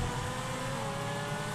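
A car engine in GTA V Online roars continuously as it accelerates, a loud dense drone holding steady through the short moment with no voices over it.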